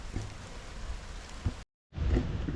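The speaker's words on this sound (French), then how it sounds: "Putain, oh, il y a eu un orage." Heavy rain at Angkor Wat hisses steadily in a thunderstorm, with a few low thumps and a brief dropout before the downpour resumes.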